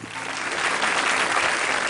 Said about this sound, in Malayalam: അതിനൊരു കയ്യടിപ്പ് കൊടുക്കണം